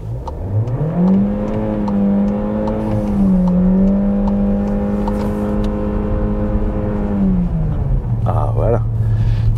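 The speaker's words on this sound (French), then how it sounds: "tu as vu ce moteur rugissant" A loud, close engine roars as it revs up into a sustained, droning note, dips slightly, holds steady, then drops back to a lower idle rumble near the end.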